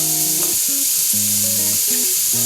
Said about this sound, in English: So right now I'm just gonna cook the bacon and let it render the fat.